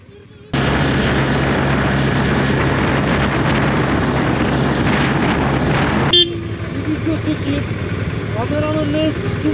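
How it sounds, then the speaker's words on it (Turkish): Strong wind buffets the microphone on a fast-moving vehicle in Çanakkale, a loud, steady roar that runs almost the whole clip and drops abruptly near the end, where quieter background sounds remain. "Çok aşırı rüzgar var."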